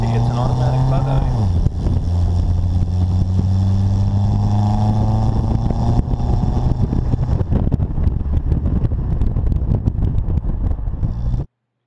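A Bugeye Sprite roadster with a Chevette engine and automatic transmission drives along, the engine droning loudly and nearby, rising in pitch early as it speeds up, then holding steady with wind and road rumble.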